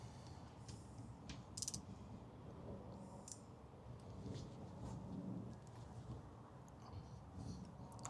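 A Snap-On fine-tooth ratchet turns on an M104 3.6 AMG engine rebuild, with faint rapid clicking and a few sharper ticks over a low background rumble.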